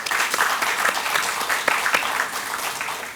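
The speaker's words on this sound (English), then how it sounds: "we can applaud, we can give a very big hand to the NIT management" Lively applause from an audience at a yoga day inaugural session at NIT Rourkela, a dense patter of many hands clapping with uneven swells, fairly close and sustained throughout.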